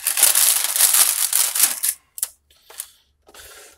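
Plastic wrapping torn and crinkled off a booster brick of Pathfinder Shattered Star miniatures, a dense, close crackling burst for about two seconds, then a few shorter separate rustles with quiet gaps between them.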